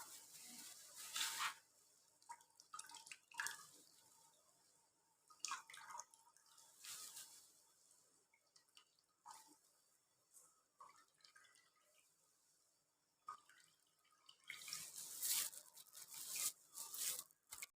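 Water drips and trickles from ground onion as it is squeezed through a muslin cloth in a kitchen, coming in short, irregular bursts, quiet and close, with no talk.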